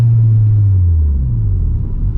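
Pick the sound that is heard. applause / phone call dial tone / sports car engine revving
sports car engine revving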